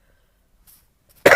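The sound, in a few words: cough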